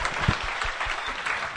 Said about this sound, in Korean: 큰 박수 한번 보여드리겠습니다